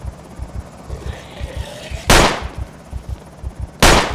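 A firearm fires twice in the Project Zomboid game, two loud, sharp bursts about two seconds apart over a steady rhythmic background thumping, with no talking.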